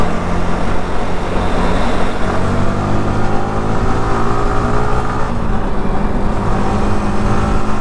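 A motorcycle rides along a highway toward Dhaka from Cumilla, its engine droning steadily and loudly under heavy wind and road noise, with the pitch shifting slightly as it accelerates.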